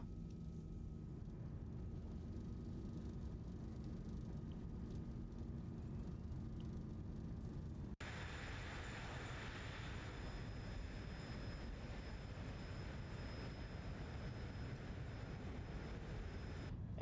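Boeing 737-8 thrust reversers roar on landing in X-Plane 12, a steady broadband rumble of jet engines that swells abruptly halfway through and holds loud and constant to the end.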